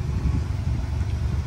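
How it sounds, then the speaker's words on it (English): A shop truck's engine idling smoothly, a steady low rumble held evenly throughout at close range, with no voices. "You guys can hear it, it's running perfect."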